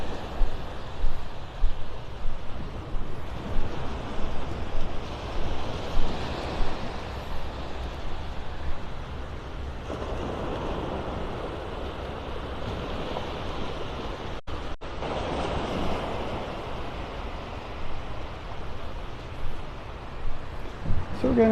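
Surf rolling onto a beach at Pelican Bay in North Naples, Florida, on a morning walk, a steady wash of breaking waves with wind buffeting the microphone throughout.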